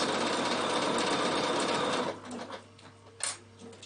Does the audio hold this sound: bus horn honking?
no